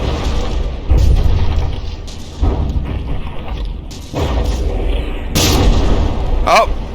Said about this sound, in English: Oh, no, that forward gun just fired.